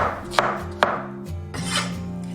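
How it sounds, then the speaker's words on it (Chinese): A knife cuts a large local taro into thin slices on a board, with two sharp chops followed by softer slicing strokes, close and clear with no voices. "把芋头切薄片，尽量越薄越好"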